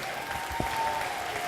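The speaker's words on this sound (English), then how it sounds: "Give them a big round of applause." Audience applause at a ribbon cutting ceremony for the Tuskegee Airmen Global Academy, steady clapping from a crowd at moderate level, with a brief thump partway through.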